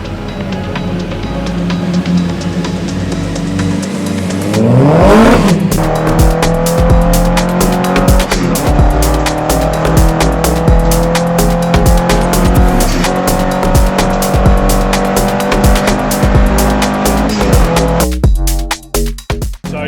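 Race cars lap Donington Park during qualifying, engines screaming close by as one accelerates sharply and shifts up through the gears, with a sustained high-revving roar and a brief tire squeal before the noise cuts out near the end.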